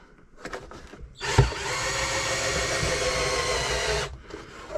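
A power drill bores holes into an RC car body shell for an XMAXX, the bit whining steadily for about three seconds after a short start, then stopping.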